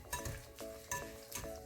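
White and brown sugar being mixed in a bowl, a few quick rhythmic scrapes and clinks of a utensil against the bowl, close and fairly quiet.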